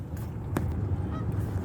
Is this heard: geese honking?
yes